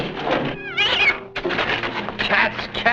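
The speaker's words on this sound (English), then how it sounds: "Cats again." Cats meow and caterwaul in several rising, wavering cries at close range, with a soft thunk between calls, in a 1947 film scene.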